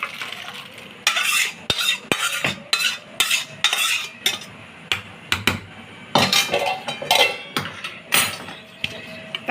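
Cooked chana dal is transferred into a pot with a rapid, irregular run of metallic clinks and scrapes from a ladle against the vessels, close and fairly loud.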